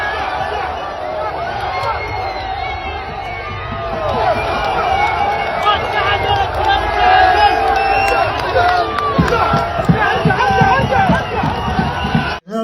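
A large crowd of football fans roars and cheers after Morocco's national team win, a dense wall of shouting and excited babble that swells louder midway and keeps going at close range.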